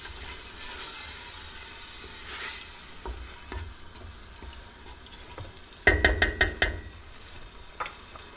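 Tomato sauce for spaghetti sizzles and fries in a pan with a steady hiss, then a burst of loud scraping and clattering as it is stirred, followed by quieter bubbling.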